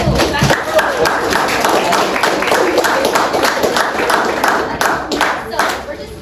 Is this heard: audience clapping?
yes